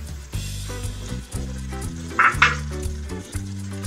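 Green and ripe chillies and pre-fried pointed gourd go into a pan of cooked-down masala for a potato and pointed gourd dalna, giving a steady loud sizzle broken by stirring scrapes and a brief hissing burst.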